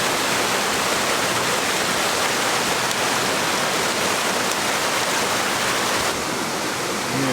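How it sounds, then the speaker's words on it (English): Steady, close rush of a mountain stream on an autumn backpacking trail in the Smoky Mountains, continuous broadband flowing water filling the whole stretch with no voices. "We can hear the water running down here."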